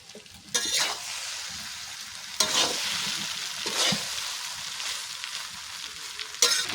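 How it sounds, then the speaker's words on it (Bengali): Pasta tossed into a pan of fried eggs sizzles steadily while a utensil stirs it, with several sharp scraping strokes against the pan spread across the steady frying hiss. "পাস্তাগুলা দিয়ে দিতেছি।"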